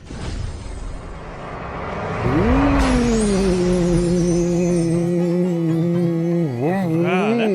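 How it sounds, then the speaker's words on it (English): A small motorcycle engine in the SEGA Genesis game Road Rash 2 turns over after a few rough pull-start attempts, then catches and revs up into a steady, buzzing drone with brief throttle blips near the end. "I'm gonna start this motorcycle up with this pull start."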